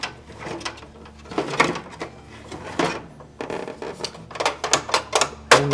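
Plastic auger in a GE refrigerator ice bucket turned by hand, giving a series of irregular clicking, ratcheting and rattling knocks that grow busier toward the end, close and fairly loud.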